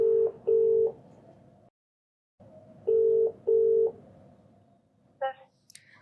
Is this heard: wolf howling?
no